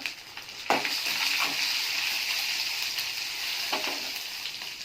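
Cumin seeds and dried red chillies fry in hot oil with a steady, close crackling sizzle, punctuated by a few spoon scrapes against the pan, with no voices.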